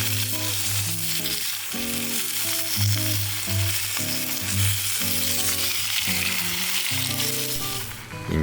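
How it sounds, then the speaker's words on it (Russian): Steaks pan-fry and sizzle loudly in a hot pan, a constant crackling hiss over soft background music. "обжариваю на сковороде стейки"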